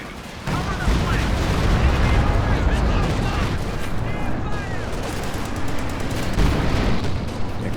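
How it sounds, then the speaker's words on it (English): Incoming rocket fire amid a 2v2 World War II real-time strategy battle with Shermans and Jagdpanzers, a dense continuous rumble of explosions and gunfire with a commentator talking over it. "Rocket coming in from Brosras."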